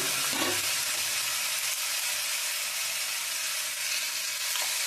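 Palm-fruit flatbread fries in oil in a pan with a steady, close, hissing sizzle throughout, and a faint scrape or two as it is turned. No talking is heard.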